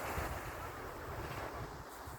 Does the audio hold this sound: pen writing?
no